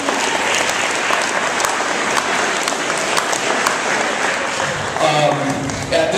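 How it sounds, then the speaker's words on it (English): Sustained applause from an audience honoring the Northwood girls basketball team after a historic season, steady dense clapping throughout with a few louder bursts and crowd noise near the end. "so give her a round of applause."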